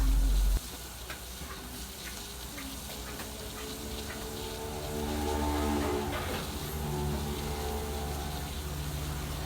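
Salt is stirred into a warm mixture to dissolve it while making pork satay, giving close, soft scraping and swirling over a faint steady sizzle.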